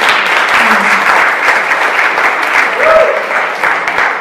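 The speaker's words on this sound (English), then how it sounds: "Just one more quick round of applause." An audience at a church talk claps in a round of applause, loud, dense and sustained throughout, with a few voices faintly mixed in.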